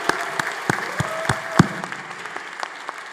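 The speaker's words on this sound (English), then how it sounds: "give them a big hand of applause" Applause at a university commencement ceremony, scattered distinct claps with a few sharp louder hits over a soft crowd background, fairly close and sparse rather than a full ovation.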